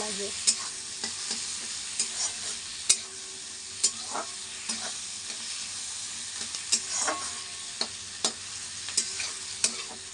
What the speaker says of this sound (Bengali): এবার টমেটোটাকে একটু ভাজা ভাজা করে নিই